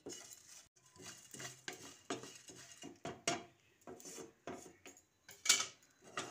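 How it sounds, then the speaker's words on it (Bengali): Whole spices dry-roast over low to medium heat in a pan, stirred with a utensil that scrapes and clinks against the metal in repeated, irregular strokes, fairly close and quiet with brief pauses between. "এবার গোটা মশলাগুলোকে লো টু মিডিয়াম হিটে একটু ড্রাই রোস্ট করে নিচ্ছি।"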